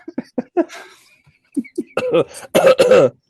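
A person coughs and clears their throat in a series of short, harsh bursts, building to a louder, rougher fit near the end.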